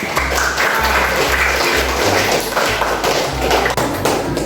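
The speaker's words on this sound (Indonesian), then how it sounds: "Coba kasih tepuk tangan" Classroom applause from a fifth-grade class, a close burst of clapping mixed with taps and thuds that runs steadily for several seconds.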